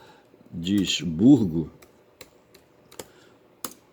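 Several scattered keystrokes on a computer keyboard, sparse and fairly close, follow a short burst of voice at the start.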